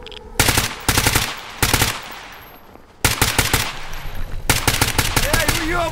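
An AK rifle loaded with hollow-point rounds fires in the Stalker GAMMA video game, in several sharp, loud rapid-fire bursts separated by brief pauses, with a longer sustained volley in the second half.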